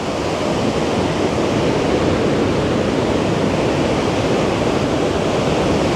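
Roar of Montmorency Falls near Québec City, Canada, recorded up close: a loud, unbroken broadband rush of falling water that drives the microphone to its limit and stays steady throughout.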